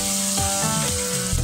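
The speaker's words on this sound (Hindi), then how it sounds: "प्याज, टमाटर और ये मसाले बिल्कुल अच्छे से फ्राई हो गए हैं." Onions, tomatoes and spices fry in a pan with a loud, steady sizzle and crackle, close up, while a utensil scrapes and stirs through them now and then.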